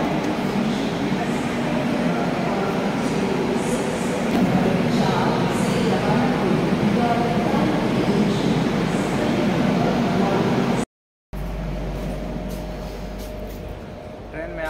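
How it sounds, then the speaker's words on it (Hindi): The Tambaram Superfast Express stands at a busy station platform, giving a low rumbling hum of the train and crowd ambience. People talk through it, and after a brief break a quieter interior hum follows. "यही ट्रेन है दोस्तों,"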